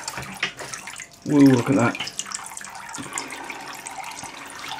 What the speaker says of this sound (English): Well, it's not dripping now, it's pouring, but it will stop pouring and will start dripping.